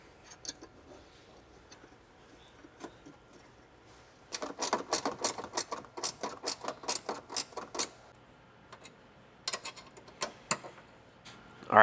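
Ratcheting on the OEM bolt of a Toyota Tacoma switch panel bracket, the bolt being reinstalled as quick bursts of sharp mechanical clicks in a steady run, then scattered ticks and pauses, fairly close and with no talking.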